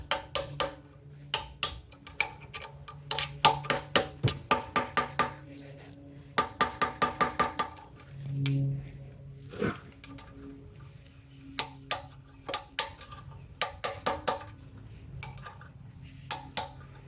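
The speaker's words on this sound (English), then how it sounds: "if I just try to catch this edge with the chisel and tap it" A chisel taps repeatedly at a broken crank bolt on a 351 Ford Windsor engine, sharp metallic clinks coming in quick bursts with short pauses between them, close and clear.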